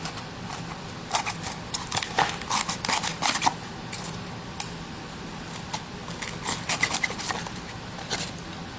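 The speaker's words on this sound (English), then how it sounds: "So now we're going to use our handy pad shears here," Pad shears cutting through a Vettec Equi-Pak hoof pad form, heard as clusters of quick crisp snipping and crackling cuts in bursts with pauses, close up and without talking.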